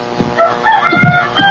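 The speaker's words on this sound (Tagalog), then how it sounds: "Sabi nga ng manok, kukurao." A rooster crows, a loud, close, drawn-out call with rising and falling harmonic tones lasting over a second, heard on its own without talk.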